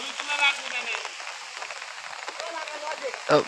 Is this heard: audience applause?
no